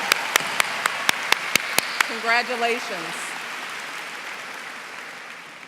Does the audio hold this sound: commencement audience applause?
yes